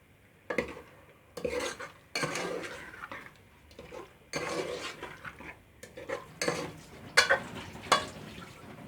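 A spoon scrapes and stirs egg and potato curry in a pan, with repeated metallic clinks and scraping strokes in uneven bursts, close and moderately loud, with a soft sizzle between them.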